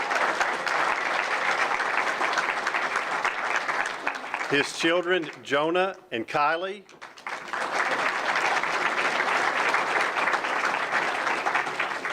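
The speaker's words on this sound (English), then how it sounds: "Let's give Katie a big round of applause." Loud, sustained applause from the audience at a men's basketball coach's introductory press conference, pausing briefly while someone speaks, then resuming at full strength.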